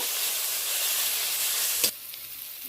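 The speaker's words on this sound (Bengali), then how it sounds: "পেঁয়াজ আর টমেটো কাঁচা লঙ্কা ফোড়নের সাথে বেশ নাড়াচাড়া করে নেব।" Chopped onion, tomato and green chilli frying in a hot spice tempering, a close steady sizzle and hiss that drops sharply near the end as the pan is stirred, followed by a quieter sputter.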